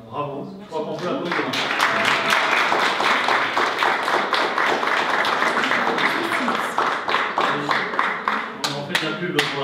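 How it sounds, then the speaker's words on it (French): Audience applause at a training-course ceremony for cleaning and hygiene agents in Mourenx, dense steady clapping for nearly ten seconds with scattered voices talking underneath. "je crois qu'on peut applaudir"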